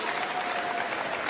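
Dense, steady clapping sounds through a short moment at a para badminton men's singles medal match, with a crowd hall ambience and no pause in the applause.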